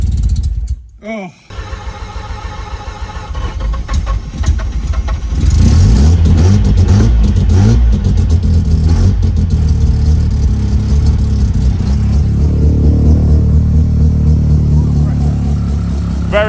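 A Mazda 13B rotary engine in an RX-5 project car, heard sputtering briefly before catching, then running loud and close in a sustained, buzzy roar with rapid revving pulses.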